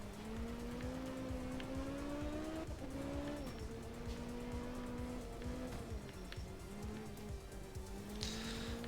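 MG Metro 6R4 Group B rally car in art of rally racing on gravel, a steady loud engine drone with rising and falling revs and gear shifts, tyre scrabble running underneath throughout.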